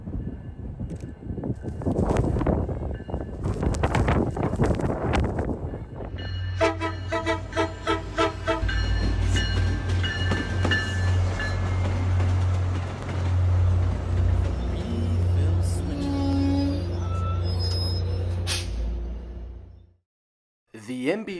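Historic MBTA snowplow train moving on commuter rails during winter preparation, with loud horn toots at the start, then a rumbling diesel engine, repeated horn blasts and clanking rail noise as it rolls along.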